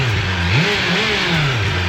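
A stock-exhaust BMW M1000R motorcycle engine, warmed up, revs steadily: a continuous engine drone whose pitch climbs and falls in a few smooth sweeps over two seconds, loud and close, with no talk.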